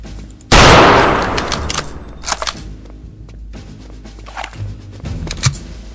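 Gunfire from the first-person shooter Return to Castle Wolfenstein: a sharp, loud shot bursts out and rings off, followed by scattered lighter impacts and clicks, with no talk.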